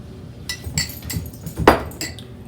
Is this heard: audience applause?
no